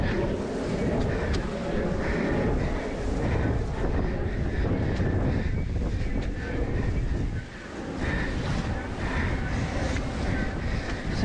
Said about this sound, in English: it's really getting windy now.